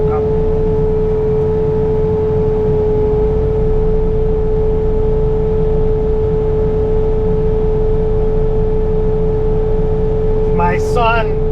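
A Bobcat T66 skid steer backs up through deep snow during a Christmas Day blizzard, its engine giving a steady, droning hum the whole time, with a brief voice near the end.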